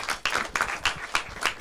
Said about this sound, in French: On applaudit Marine, s'il vous plaît.